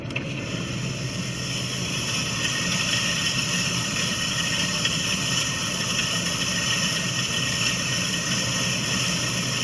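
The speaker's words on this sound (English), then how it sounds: "this final clip we're going to play is driving. So now it's more of a higher pitch sound." A vehicle with a faulty wheel bearing being driven, a constant loud drone and road rumble with a higher-pitched whine running steadily throughout.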